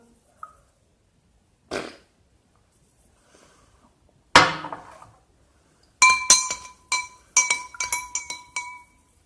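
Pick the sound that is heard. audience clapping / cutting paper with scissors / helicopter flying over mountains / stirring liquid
stirring liquid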